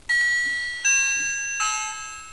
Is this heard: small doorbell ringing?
yes